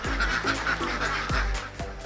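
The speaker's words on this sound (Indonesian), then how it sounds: "satu kandang berisi sekitar 500 ekor bebek petelur" A pen of about 500 laying ducks on a duck farm in the capital city fills the air with steady, nasal quacking. Several honking calls repeat in a loose rhythm over a constant murmur of the flock.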